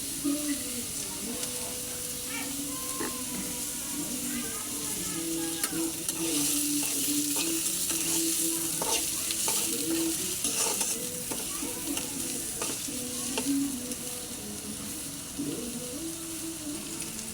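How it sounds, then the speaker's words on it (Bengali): Onion, chili and garlic frying in oil, a dense continuous sizzle with scraping stirs throughout, heard close and steady, with faint background voices beneath. "ভালোভাবে নেড়ে চেড়ে নিব এবং লাল লাল করে ভেজে নিব"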